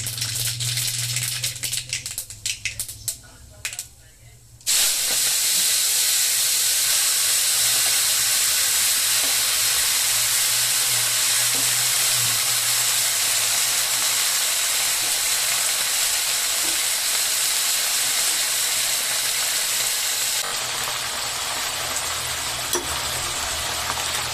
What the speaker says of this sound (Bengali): সরষে দিয়ে দিলাম তেলের উপর।